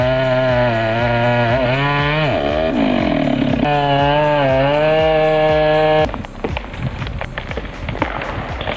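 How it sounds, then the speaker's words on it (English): A chainsaw cutting logs in a logging setting runs loud and close with a steady, strongly harmonic engine whine that dips and recovers under load, then cuts off abruptly near the end, leaving rougher, scattered noise. "What a beautiful chainsaw sound."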